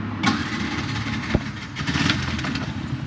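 A tuk tuk's small motor turns over and catches after a motor adjustment on a street in Bolivia's capital, a sharp crank followed by a busy, rattling idle close by.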